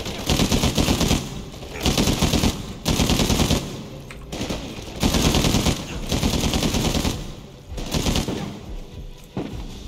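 Bursts of automatic gunfire from the video game Uncharted 4, loud rapid volleys of several seconds each separated by short lulls, with no speech over them.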